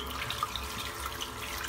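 Hot tap water runs steadily while a shaving soap tub is spun and rinsed under it, giving a continuous close splashing stream with small irregular droplet spatters.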